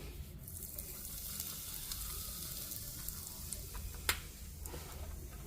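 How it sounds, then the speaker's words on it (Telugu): Asafoetida goes into hot oil for a mango pickle, giving a faint, steady sizzle with small crackles and one sharp tick near the end, and no voices. "ఇది నూనె అయితే కాగిందనమాట ఇందులో మనం ఇంగువ వేసుకోవాలి"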